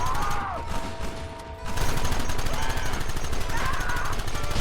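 Gunfire in Red Dead Redemption starts as scattered shots, then swells into a dense, continuous fusillade of rapid rifle and gun fire, loud and close, with voices shouting faintly through the battle.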